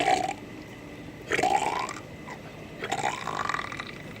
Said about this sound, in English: you get this really gurgly, disgusting, bubbly sound out of it, as opposed to your standard belch, which is pretty clear.